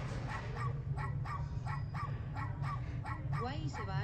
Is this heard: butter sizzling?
no